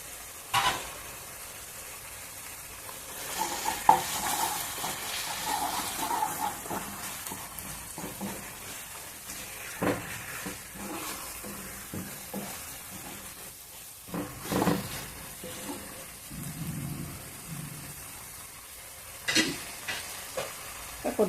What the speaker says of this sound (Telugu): ఉడికించి రామి పెట్టుకున్న ఈ గోంగూరను కూడా దీంట్లోకి వేసేద్దాము. కొద్దిగా నూనెలో మగ్గితే బాగుంటుంది గోంగూర కూడా.